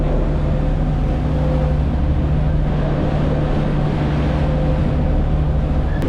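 A new 57ft catamaran motor sails with a genoa through a big sea off Cannon Rocks, its engine droning steadily under broad rushing water and wind noise at 7-8 knots.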